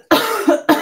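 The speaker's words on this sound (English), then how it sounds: "I'm going to start coughing again." Three harsh, close coughs from a person during a live rubber-stamp crafting stream, each a loud sudden burst with short gaps between them, with no speech.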